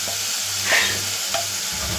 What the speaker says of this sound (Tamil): போட்டு நல்லா பச்சை வாசனை போகிற வரைக்கும் இப்போ நம்ம கிண்டி இதை நல்லா வதக்கி விடலாம்